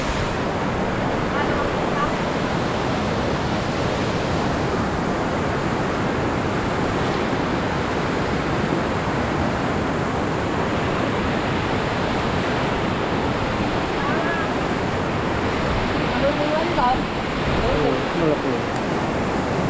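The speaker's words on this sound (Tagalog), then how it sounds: "Ito yung malaking ilog." A large river swollen high with floodwater after a typhoon rushes past in a loud, unbroken roar that fills the whole stretch, with faint gusts of wind over the torrent.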